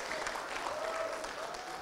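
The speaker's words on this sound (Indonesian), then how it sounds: "Tepuk tangan untuk komunikasi" Applause from a university audience, with a faint whistle or cheer rising through it, fairly loud and steady across the clip.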